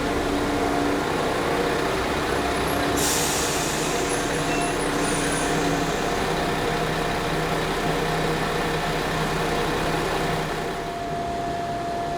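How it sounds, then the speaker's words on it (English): A Class 172 diesel multiple unit pulls away from a station, a steady loud engine and rail rumble filling the whole stretch with a brief high squeal early on, easing slightly near the end. "And then the same Class 172 leaving."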